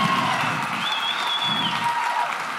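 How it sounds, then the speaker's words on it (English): Church congregation clapping in praise during a worship service, a steady dense wash of many hands applauding throughout, with faint voices and a brief whoop over it. "Let's give Jesus a big hand clap of praise."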